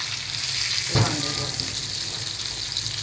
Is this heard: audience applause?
no